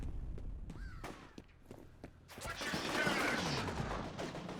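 Gunfire in the video game F.E.A.R. Extraction Point: a few sharp single shots early, then a sustained burst of rapid fire with echoing noise, heard alongside footsteps.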